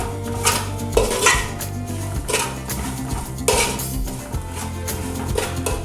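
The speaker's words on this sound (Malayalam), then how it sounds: "ചെറുതായി ഒന്ന് മീഡിയം ഫ്ലെയിമിൽ തന്നെ വെച്ച് നമുക്ക് നന്നായി ഒന്ന് ഇളക്കി കൊടുക്കാം" A spatula scrapes and clanks against a metal pan while roasted coconut and spices are stirred over medium flame for varutharacha chicken curry, with repeated close metallic scrapes and a faint sizzle underneath.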